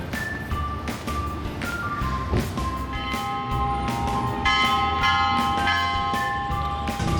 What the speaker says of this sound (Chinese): 在广场上面看着它一直敲钟